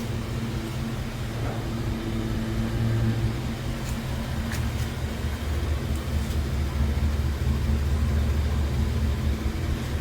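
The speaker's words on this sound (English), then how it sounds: "Can hear the power steering pump a little bit, but can't hear the hydraulic pumps." A Rolls Royce Silver Shadow idling quietly: a soft, steady low engine hum with a faint whine from the power steering pump, continuous and close, with no talking.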